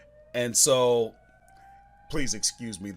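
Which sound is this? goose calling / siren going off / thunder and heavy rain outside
siren going off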